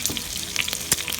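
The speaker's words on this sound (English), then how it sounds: "I'm gonna add 4 cups" Water poured into a very hot pot of oxtail hisses and sizzles in a short, close burst of crackling spatter.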